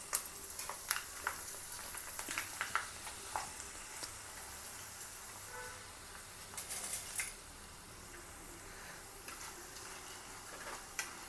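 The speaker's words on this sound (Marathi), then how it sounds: "तेल तापलेलं आहे आणि हे आता आपण तळायला ठेवणार आहोत." Poha (flattened rice) frying in hot oil in a strainer ladle, a faint steady sizzle with light ticking and occasional metal scrapes from stirring.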